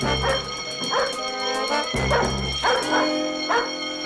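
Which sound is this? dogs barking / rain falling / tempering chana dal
dogs barking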